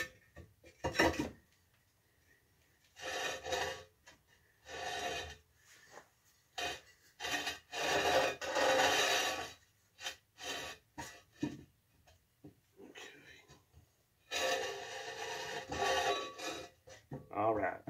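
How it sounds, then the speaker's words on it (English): Intermittent scraping and clunking sounds in short bursts come from work on the 8 3/4 rear axle of a 1992 Dodge D150, where the brake drum rubs slightly, with speech between the bursts. "I know you heard some noise there where the brake drum is actually rubbing a little bit"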